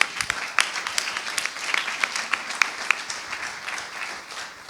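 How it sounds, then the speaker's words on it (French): Audience applause at a round-table panel on fair, sustainable food, a moderate patter of clapping heard from some distance, fairly soft and even without a clear rise or fade. "Je pense qu'on peut applaudir Loana."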